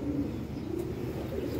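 Tournament pigeons at a pigeon-flying contest in Kalpi give a steady, low, murmuring coo that runs continuously, close and moderately loud, with no talk over it.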